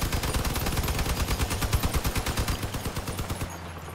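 A roof-mounted machine gun on a car in Crossout fires a rapid, continuous burst of loud, close shots for about three seconds, then stops abruptly.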